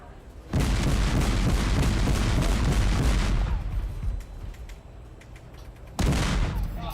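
A naval gun fires from a destroyer during a 2007 sinking exercise against the ship HMCS Huron, heavy booming blasts with long rumbling roars, the second coming after a pause, loud and close.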